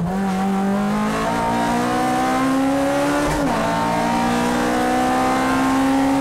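A Toyota AE86 race car's engine roars under hard acceleration, its rising pitch climbing steadily, dipping briefly at a gear change, then climbing again, loud and continuous throughout.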